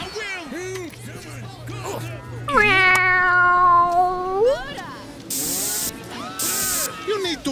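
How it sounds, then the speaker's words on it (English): A cat meows in the video game Postal III, one drawn-out, wavering call in the middle, close and loud, with game sounds and other noises around it. "Nice kitty."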